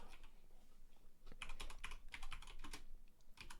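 Fingers type on a computer keyboard in quick, uneven bursts of close clicks, some louder clusters standing out over a soft background hum, with no one speaking.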